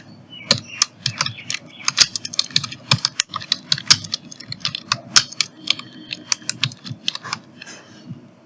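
Rapid typing on a computer keyboard while laying out a political poster, a steady patter of sharp key clicks with brief pauses.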